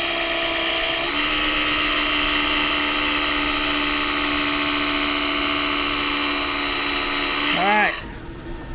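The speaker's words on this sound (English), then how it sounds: "that entire surface of that blade has been ground down" Sharpening stone grinding down the blade of an NP4 leather skiver, a loud steady high-pitched whine that holds for several seconds and then winds down at the end.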